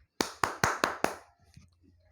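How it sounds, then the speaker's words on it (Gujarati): Five sharp hand claps ring out in an even rhythm during a children's classroom activity, followed by a short stretch of quiet room sound. "ક્લેપ યોર હેન્ડ્સ, તાળી પાડો."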